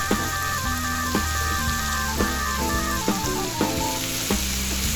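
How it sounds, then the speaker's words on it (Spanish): Onion and spring onion sautéing with a little salt in oil in a frying pan: a constant crackling sizzle with occasional stirring scrapes, under steady background music. "Vamos a saltear esta cebolla y la cebolla de verdeo hasta que estén bien doraditas con un poco de sal."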